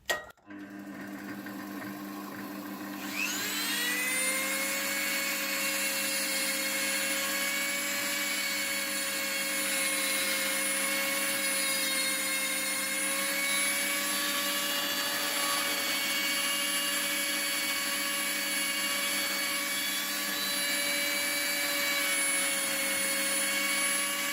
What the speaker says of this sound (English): I'm just going to make sure this radius is nicely blended in with the grinder.